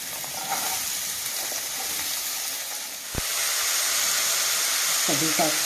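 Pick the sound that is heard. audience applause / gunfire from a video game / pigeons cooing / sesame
sesame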